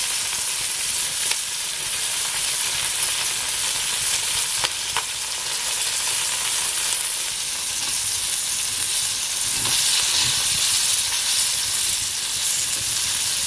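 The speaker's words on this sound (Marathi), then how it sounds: "एकाच वेळेला कसे मासे फ्राय होत राहतील व्यवस्थित" Loud, continuous sizzling of Chadni river fish frying in hot oil on a pan over a wood-fired stove, a dense steady hiss with occasional pops, close up and without talk.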